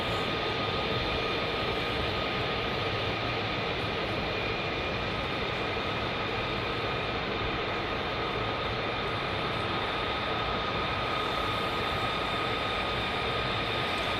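F-35 fighter jets at RAF Lakenheath give a steady, loud roar of jet engines that fills the whole clip, a broad constant rumble with a high whine and no speech.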